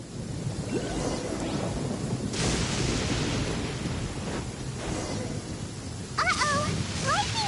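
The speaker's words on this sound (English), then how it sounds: "Uh-oh! Lightning storm!" Thunderstorm in the video game Genshin Impact, with rumbling thunder rolls and a wash of rain and wind at moderate volume, plus brief chirpy game effects near the end.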